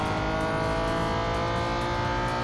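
A race car engine droning steadily as it overtakes another car in the mobile racing game Real Racing 3, a loud, sustained whining hum with no break.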